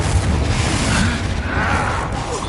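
A Confringo blasting spell goes off in Hogwarts Legacy amid combat, giving a loud, sustained booming roar with rumbling low end that fills the whole stretch without a break.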